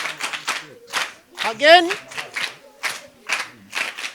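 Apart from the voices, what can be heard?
audience clapping for themselves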